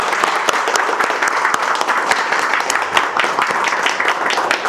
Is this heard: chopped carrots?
no